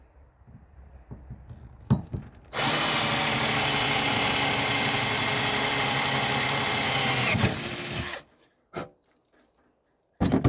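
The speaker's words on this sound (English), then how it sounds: "Now here I'm going to drill a 1/4 inch hole." Power drill boring a quarter-inch hole during assembly of a 16 ft Expandacraft outrigger canoe kit: a few handling clicks, then a loud, steady motor whine for about five seconds that winds down, followed by more small knocks.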